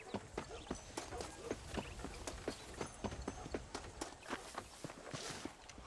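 Horse hooves clip-clop steadily in Red Dead Redemption, a regular rhythm of close, distinct hoof strikes on the ground running through the whole stretch with low background rumble.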